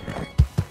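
Two heavy hoof thuds from a horse in the Red Dead video game land close together after a faint, breathy snort, all within a brief moment.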